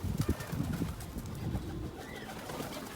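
Pet pigeons landing in a rooftop loft, with soft throaty cooing and a few flutters, fairly close but quiet and continuing steadily under low background noise.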